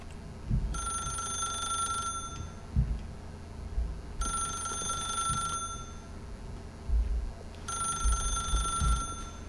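A telephone rings in The Stanley Parable video game: three bright electronic ring bursts, each lasting over a second, spaced evenly apart, loud and close, with low thuds and room noise between rings.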